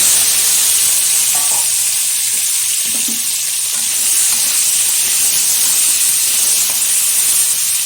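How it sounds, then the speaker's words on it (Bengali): Washed, salted crab is lightly fried in hot oil with turmeric, giving a steady, loud, close hiss and sizzle that runs unbroken for several seconds with no talking. "এই যে কাঁকড়া, এটা আমি তেলের মধ্যে ছেড়ে হালকাভাবে ভেজে নেবো।"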